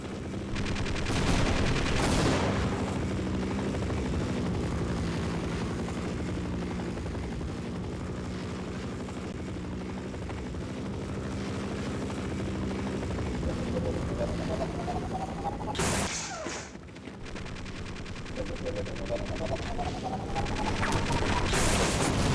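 A helicopter in the video game Half-Life thrums loudly and steadily overhead amid bursts of gunfire, then a sharp crash and explosion near the end, with a rising whine following.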